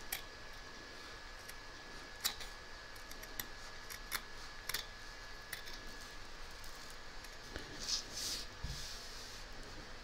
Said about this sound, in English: We're now going to trim up the raw edge ready for when we join it to the next panel